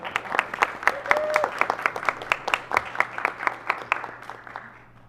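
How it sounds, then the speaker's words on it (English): Audience members at a State Board of Education public meeting give a round of applause, a steady run of distinct claps for several seconds that thins out toward the end. "if people want to clap, we can do claps."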